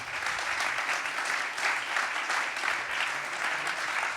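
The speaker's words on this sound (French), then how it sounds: "On peut l'applaudir." Applause from an audience at a prize-giving ceremony, a steady wash of many hands clapping at moderate level throughout, with no voices over it.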